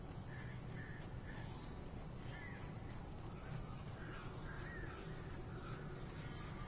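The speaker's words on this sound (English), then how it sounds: "Oh, that's a lot of birds." A flock of crows caws in the video game Alan Wake, with repeated harsh calls that sound distant and faint beneath a steady hiss of ambient noise.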